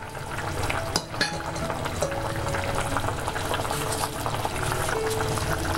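Kerala king fish curry bubbling steadily in a pot, a dense continuous boiling hiss with faint pops, close and fairly loud throughout with no talk.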